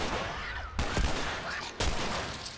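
Heavy gunfire in the survival game The Last of Us, a dense rapid volley of shots with two sharp loud onsets, close and sustained over a couple of seconds.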